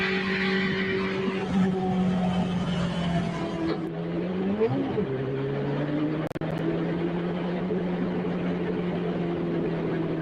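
A Formula 1 car runs along a public highway, its high-pitched engine droning loud and steady with a brief pitch swoop near the middle, under constant road noise.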